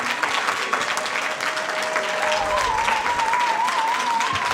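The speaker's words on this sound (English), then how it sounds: "A round of applause for this amazing team." A crowd applauds the winning team at a university debate final in Kenya, a sustained burst of clapping that fills the whole moment, with a few faint voices mixed in.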